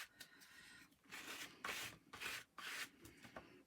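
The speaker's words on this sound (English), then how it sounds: "So I'm just going to scrape up this bit here." Scraping medium off a mixed media butterfly, a series of close, rasping strokes in uneven rhythm, each a gritty rub lasting under a second, with quiet pauses between.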